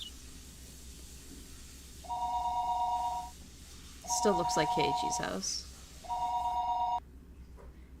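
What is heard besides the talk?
telephone ringing in Higurashi visual novel video game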